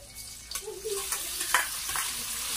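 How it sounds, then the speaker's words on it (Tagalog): Chopped tomatoes go into a hot frying pan with sautéed aromatics, giving a brief close sizzle with soft stirring scrapes over a couple of seconds. "isunod natin yung ginayat kong kamatis"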